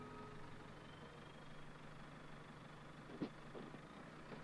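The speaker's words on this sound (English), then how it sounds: "Listen to this engine. How it purrs." A car engine idles in the video game Dordogne, a low, steady hum held at an even level throughout with one small click near the end, faint and alone.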